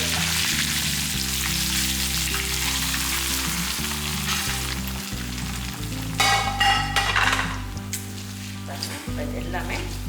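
A hot tempering with curry leaves is poured into ven pongal and bursts into a loud crackling sizzle for a few seconds. Background music plays throughout, and a voice is present.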